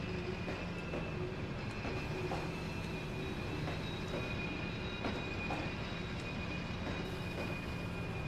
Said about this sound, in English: And here they come. Clickety-clack down the track.